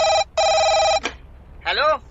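A telephone rings in two electronic trill bursts, loud and close, with a short gap between them, followed by a brief knock and a short voice-like warble.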